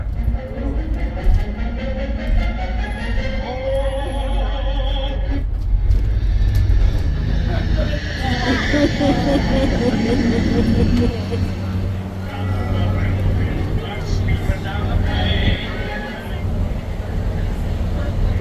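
A low-flying airplane passing over Balboa Park near San Diego's airport, a loud sustained roar that swells and fades while voices talk nearby over a rumbling vehicle.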